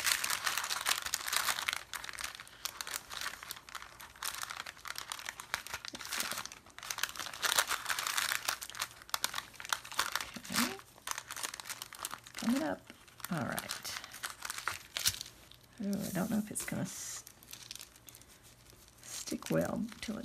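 An altered tea bag is peeled up off a sheet of paper in a mixed-media craft, giving close, dry crinkling and tearing sounds in uneven bursts, with a voice talking at times.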